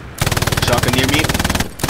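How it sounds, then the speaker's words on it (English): Rapid gunfire from a tactical team shooter game, a loud dense run of repeated shots at a fast steady rhythm, close and continuous for nearly two seconds before cutting off. "Shotgun near me."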